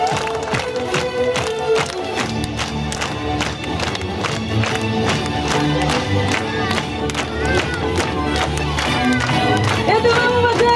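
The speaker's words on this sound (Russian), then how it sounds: "Аплодисменты!" Audience applause at an outdoor fairy-tale games festival in Belaya Kholunitsa, a loud sustained crowd clapping with cheering mixed in throughout.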